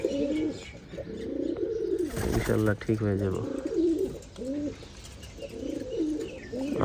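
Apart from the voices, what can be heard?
pigeons cooing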